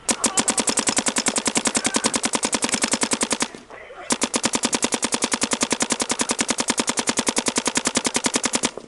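A Planet Eclipse CS1 paintball marker fires a long, rapid, evenly spaced string of sharp pops, near and loud, with one brief pause partway through before the steady stream resumes.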